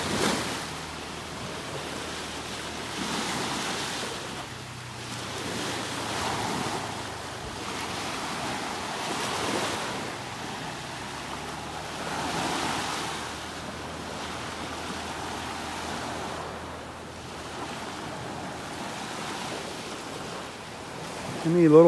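Waves roll and wash onto a beach in North Naples, Florida, a broad surging rush that swells and fades in slow cycles, with wind buffeting the microphone.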